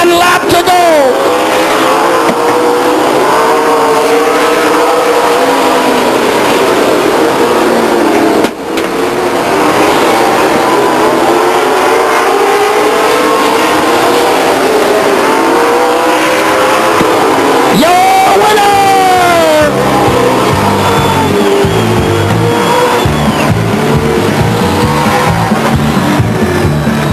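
Race cars roar past the grandstands at a speedway during a night race, engine pitch sweeping as each one passes, with a loud, continuous mix of engines and crowd and a commentator speaking over the PA.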